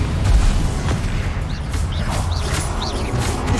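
Fire-blast spell explosions in the Hogwarts Legacy video game, a dense, loud stretch of booming blasts and crackling impacts that continues without a break.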